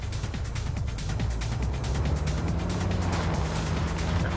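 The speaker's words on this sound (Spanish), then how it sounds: "Escucho un coche por ahí." A car engine rumbles steadily nearby in a Spanish-language roleplay game, a low continuous hum with a faint rise as it passes, heard alone without talk.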